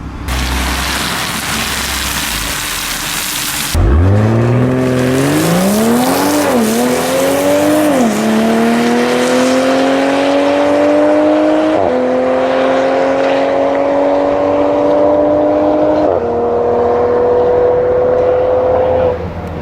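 A modified 2020 Toyota Supra launches on a quarter-mile drag strip, its engine note rising loudly through several gear changes and holding a strained, steady pitch toward the end.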